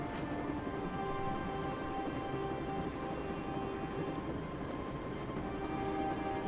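Interior ambience of a train carriage in the video game Broken Sword: Shadow of the Templars, a steady low rumble and hum with a faint rhythmic rattle, even and continuous throughout, with no talking.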